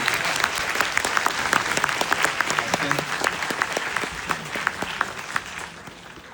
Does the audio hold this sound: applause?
yes